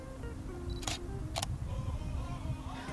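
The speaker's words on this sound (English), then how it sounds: "Now if I touch the screen, it's going to focus and fire the shutter." A Canon EOS 650D (Rebel T4i) fires its shutter from the touchscreen: a brief focus beep, then two sharp mechanical clicks about half a second apart, close up against a steady low background hum.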